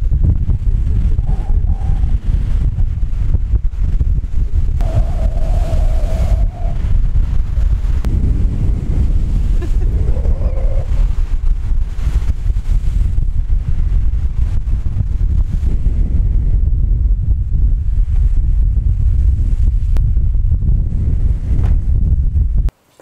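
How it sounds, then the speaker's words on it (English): Storm wind gusts roughly across an outdoor microphone beside a Suzuki Jimny, a loud, steady roar of buffeting with rising and falling bursts throughout and no talking. "It's storming here."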